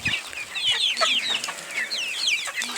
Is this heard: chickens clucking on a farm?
yes